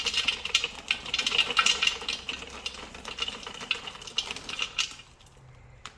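A Thermomix TM6 kitchen machine runs with a dense, steady whirring and rattling churn that holds for about five seconds, then cuts off abruptly into near silence.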